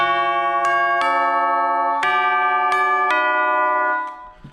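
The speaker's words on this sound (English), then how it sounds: "Chimes." Tubular chimes are struck several times at uneven intervals, each hit ringing out bright and metallic with long overlapping sustain that dies away at the end.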